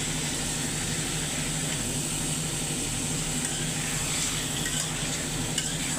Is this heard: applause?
no